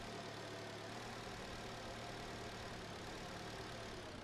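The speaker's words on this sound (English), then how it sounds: "That roughness is just its engine revving at full." Rough car engine revving at full in Car Dealer Simulator, a game car with no exhaust holes: a continuous, dense, gritty engine drone that holds steady throughout, fairly faint and without pauses.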